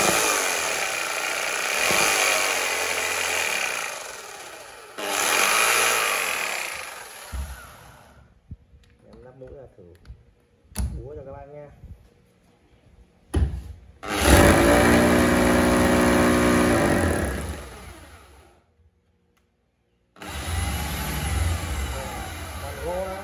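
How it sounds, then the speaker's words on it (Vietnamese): A 220V electric concrete drill and chisel runs in loud, sustained bursts with abrupt stops and quieter gaps between them, close by. "khoan bê tông đục bê tông đây"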